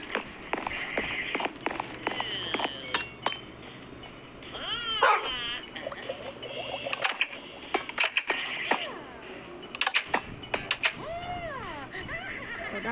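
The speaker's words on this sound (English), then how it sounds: "The dog is going crazy." A dog in the Minecraft video game barks and yips in quick repeated bursts with whimpers between them, fairly close, over a busy game background with scattered clicks and movement sounds.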